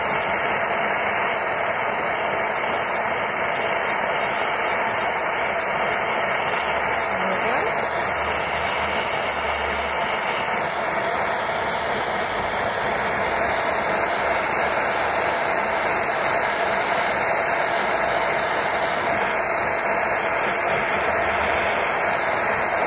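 A torch flame roars steadily and evenly throughout while heating a silver ring band for reticulation, a continuous close hiss with no breaks.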